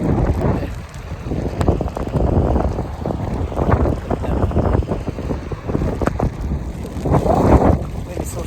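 Strong gusting wind roars during a snowstorm, a continuous loud rush buffeting the microphone with surges throughout, while a person speaks intermittently over it.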